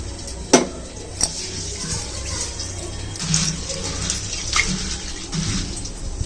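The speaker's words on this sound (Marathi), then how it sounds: "आता हे धुवून घेते स्वच्छ आणि पाणी ठेवते त्याच्यामध्ये" Soaked masoor lentils are rinsed under running water in a home kitchen, giving a steady close rush of water with a few sharp splashes and clinks as the grains are handled.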